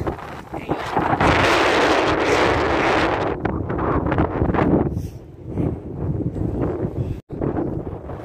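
Strong wind buffets the microphone outdoors in the city, a loud roaring rush that swells, eases and gusts again with rustling throughout.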